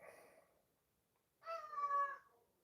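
A cat meows once clearly nearby, a short drawn-out call following a fainter earlier sound, otherwise quiet indoors near a kitchen door.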